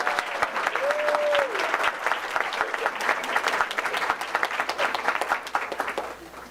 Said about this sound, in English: Let's give our 5th grade students and teaching team a well-deserved another round of applause for their hard work.